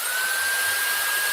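A small Cow RC USB rechargeable blower, a little handheld gun-style unit, whirs with a steady high-pitched whine and airy hiss, loud and close, running continuously without pause.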